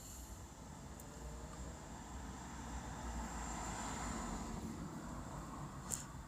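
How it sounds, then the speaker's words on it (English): A private plane passes overhead, heard as a steady, faint, distant broadband engine drone that swells gently in the middle, with no talking. "A private plane has been following me over my head for the past 2 weeks."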